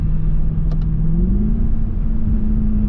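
A Mercedes AMG C63 with a naturally aspirated 6.2-litre V8 revs from inside the cabin, a loud steady rumble that swells and rises in pitch before settling.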